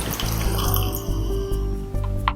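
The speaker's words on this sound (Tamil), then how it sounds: "தேவையான அளவு தண்ணி ஊற்றிக்கலாம்." Water pours in a steady, close stream into a blender jar holding a thinai millet drink mixture with grated coconut, gurgling and splashing, ending in a brief spatter.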